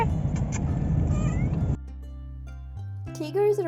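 A talkative cat meows close by, with a few short calls over a busy noisy background, then a quieter stretch of low tones.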